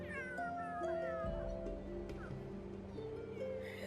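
Several cats in The Sims 3 meow and caterwaul in overlapping, drawn-out cries, fairly close and clear above a steady, low game-ambience backdrop.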